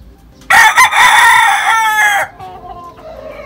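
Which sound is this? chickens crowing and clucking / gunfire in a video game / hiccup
chickens crowing and clucking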